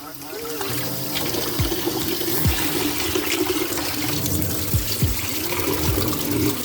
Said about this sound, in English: Okay, so I'm cleaning my rice.